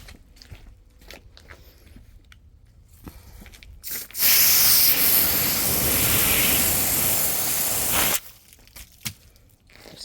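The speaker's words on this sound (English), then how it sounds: "Then I'm going to rinse it with the hose." Garden hose spraying water onto a cleaning rag, a loud steady hiss lasting about four seconds, with quieter handling sounds before and after.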